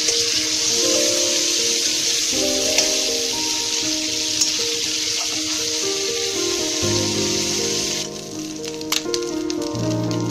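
Prawns fry in oil in a wok with a loud, continuous sizzle and hiss, close up, easing slightly near the end.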